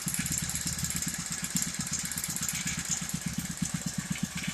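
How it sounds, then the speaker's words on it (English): An unrestricted Honda GXH50 four-stroke 49cc engine runs steadily at a fast idle, its rapid even pulsing putter close and continuous with a buzzing mechanical hum, no talking. "This is an unrestricted engine."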